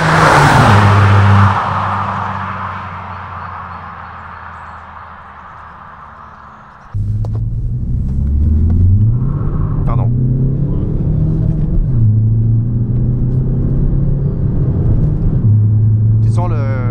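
Ford Focus 3 ST diesel with a Stage 3 X37 turbo: a fading engine and road roar, then a sudden loud rise as it accelerates, with gear changes and a rising, pulling engine tone heard from inside, under occasional talk.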